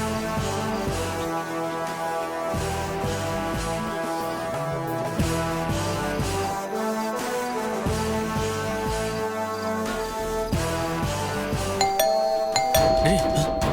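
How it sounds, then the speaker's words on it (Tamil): A doorbell chimes in repeated ding-dong tones over background music, with a voice briefly heard near the end. "டேய், காலிங் பெல் சவுண்டு கேட்குதுடா."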